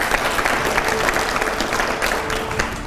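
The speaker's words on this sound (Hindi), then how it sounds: "जोरदार तालियां।" Audience at a live Kumar Vishwas event bursts into loud, sustained applause, a dense wash of many hands clapping that holds steady throughout without anyone speaking over it.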